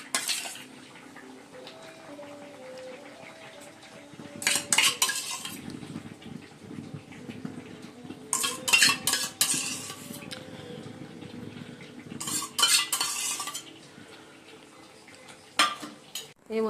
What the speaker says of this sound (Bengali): টক দইটা একটু ফাটিয়ে নিলাম।